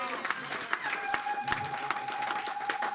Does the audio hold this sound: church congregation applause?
yes